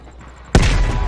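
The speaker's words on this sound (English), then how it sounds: "you followed the road right toward the sound of gunfire" A single loud, booming gunshot or blast erupts suddenly after a low hum, followed by a rumbling echo that lingers, in the video game Call of Duty: Black Ops Cold War.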